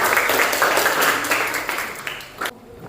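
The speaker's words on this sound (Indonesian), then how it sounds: "Kasih tepuk tangan untuk temannya." A classroom of students claps for a classmate, a brisk burst of applause that fades out near the end.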